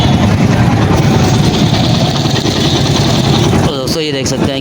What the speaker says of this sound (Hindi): ये हमने स्टार्ट कर दी है। बाइक हमारी स्टार्ट है।